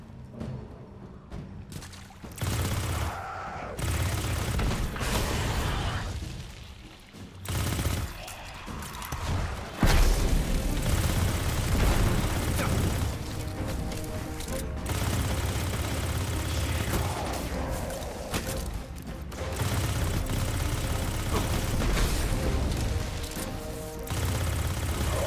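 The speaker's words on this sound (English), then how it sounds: "Submachine gun." Submachine gun fire in Destiny 2 comes in repeated rapid bursts amid dense game effects, loud and near, with short quieter gaps between volleys.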